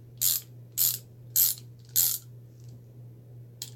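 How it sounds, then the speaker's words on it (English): A hand ratchet clicks in four short bursts at an even pace, close and clear over a steady low hum, followed by one faint click. "the best ratchet I've ever bought"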